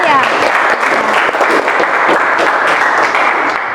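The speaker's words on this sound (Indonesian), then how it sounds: "Beri tepuk tangan untuk kalian semuanya." Students in an Indonesian-language classroom clap together in loud, dense applause lasting a few seconds, a steady wash of hand claps close to the recorder with some voices mixed in.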